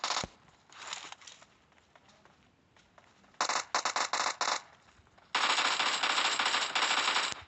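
Video game machine gun fire comes in loud bursts: a short volley at the start, a rapid stuttering string of shots midway, then a sustained, dense automatic burst to the end, with quieter game ambience between.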